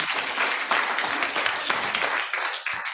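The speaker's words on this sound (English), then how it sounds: "Dajmo en glasen aplauz," Audience in Ljubljana applauding, a dense, continuous burst of clapping from a crowd, close and fairly loud throughout with no speech over it.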